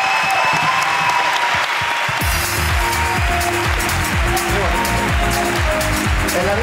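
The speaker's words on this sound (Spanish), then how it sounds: "Aplausos para la ruina de Arturo." Live audience at a comedy podcast recording breaking into loud, sustained applause, dense clapping from many hands with some cheering, holding steady throughout.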